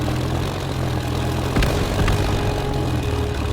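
A steady propeller-aircraft drone from a plane in the video game Shanghai Nanking hums continuously at an even level, with a couple of brief clicks partway through.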